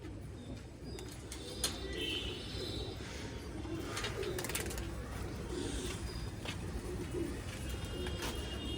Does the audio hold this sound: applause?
no